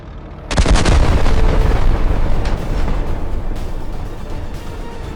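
In a video game test, an SMK tank's cannon fires a loud, sudden booming blast that rolls into a long rumbling roar and fades slowly, with no talk.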